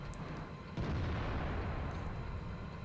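A tank cannon fires in a tank video game, a single loud boom with a sharp onset followed by a sustained low rumble and rolling decay.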